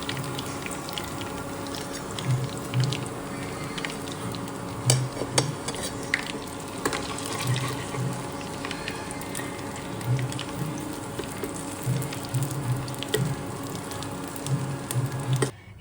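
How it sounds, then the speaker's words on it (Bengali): Mushrooms fry in a pan, giving a soft steady sizzle at close range with occasional scraping stirs and brief clinks, quiet and without talk. "যেখানে মাশরুমটা ফ্রাই হয়ে গেছে।"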